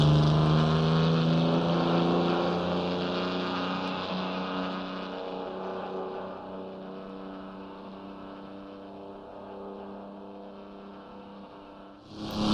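A Mercedes Transporter van's engine drones steadily while lapping the Nordschleife in Assetto Corsa, its pitch holding with little variation and the sound easing slightly as the van strains in fourth gear, with no talking.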